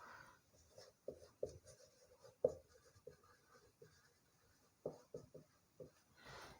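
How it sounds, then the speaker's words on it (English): Pen or chalk writing a mathematical statement by hand, faint scratchy strokes and taps arriving in short irregular bursts with quiet gaps, close but soft. "what is the statement I am writing first?"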